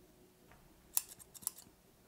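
Scissors snip through fabric while trimming a bomber jacket being sewn, a few quiet, close cuts in a short irregular burst, two sharper snips standing out over a faint room background.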